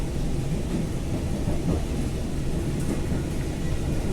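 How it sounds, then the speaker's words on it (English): A Wellington Kapiti Line train rumbles along behind seaside houses, a steady low roar that stays even and continuous throughout. "The train running right behind them."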